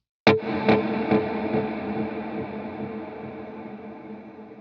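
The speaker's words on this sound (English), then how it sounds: "a little bit more delay and reverb." A single strummed electric guitar chord with grit, echoing in a few audible delay repeats and a long reverberant tail that slowly fades.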